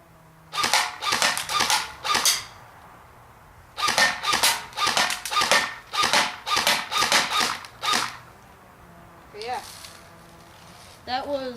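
An M4 airsoft gun fires on semi-auto, single sharp cracks in quick runs of about five, pausing between runs, close and loud; a brief whir and squeak follow near the end.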